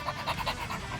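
A dog panting rapidly and steadily at close range, with quick rhythmic breaths repeating through the moment.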